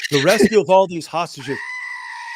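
A goat bleats in a wavering, nasal cry, mixed in with a voice speaking close and loud, followed by a steady tone.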